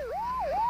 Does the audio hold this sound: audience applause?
no